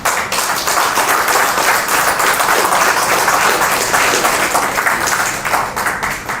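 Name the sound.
applause welcoming the speaker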